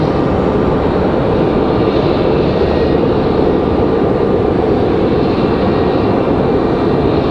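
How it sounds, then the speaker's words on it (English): A Republic Airways airliner departs Raleigh-Durham airport with a loud, steady broadband engine roar that fills the whole stretch without letting up. "So Republic Airways getting out of here."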